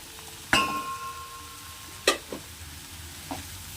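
Greens drop into a hot frying tempering with a sharp sizzling burst, followed by a second burst and clinks of a spoon stirring the pan, fairly quiet between the bursts.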